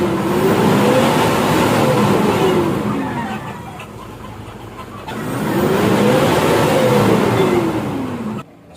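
A Toyota Hilux engine runs and revs, rising and falling in two broad sweeps that swell loudly, ease to a steady idle, then climb again before cutting off abruptly near the end; no speech.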